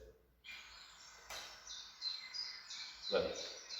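Birds tweeting in a recording, a few short bright chirps repeating at moderate distance over soft background hiss, with no talk.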